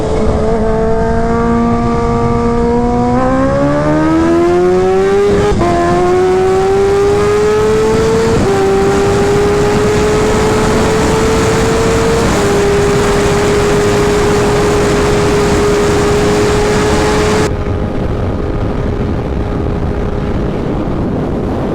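A Kawasaki Ninja H2 sportbike with a stage 2 kit revs hard and pulls through several gear shifts. The loud, close engine howl climbs steadily in pitch under heavy wind roar, with brief dips at each shift.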